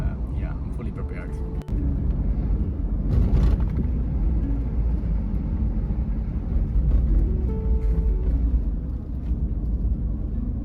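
Steady low engine and road rumble from inside a car on Kythera while carrying closed beehives, continuous and close throughout with no breaks.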